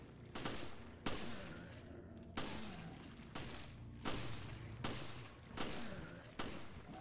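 Repeated gunfire from an allied character shooting at enemies in Resident Evil: Revelations, loud sharp shots every second or so with booming decays, a steady fusillade close by.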